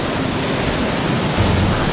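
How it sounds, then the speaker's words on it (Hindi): Tirathgarh waterfall, swollen after torrential rain and dropping about 300 feet, pours in a loud, steady, unbroken roar of rushing water. "पहाड़ों से जो सैलाब नीचे गिर रहा है वो तीरथगढ़ जलप्रपात की तस्वीर है"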